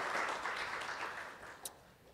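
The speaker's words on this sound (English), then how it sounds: "Let's give a round of applause." Applause from an audience at a talk event, a broad continuous wash of clapping that is strongest at the start and slowly tapers off across the clip.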